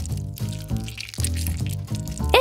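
Cartoon sound effect of a lemon being squeezed: a series of wet, squishy, dripping bursts in rapid rhythm, close and fairly loud, with springy comic tones between them.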